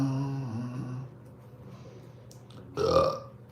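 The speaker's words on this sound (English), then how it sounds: "A nice burp to end that." A single loud, guttural burp erupts near the end after a stretch of quieter low rumbling, close and forceful, after drinking beer.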